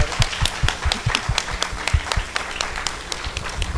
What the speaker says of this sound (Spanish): un aplauso por favor para Patricia Noguera para que tenga fuerza y que se mejore.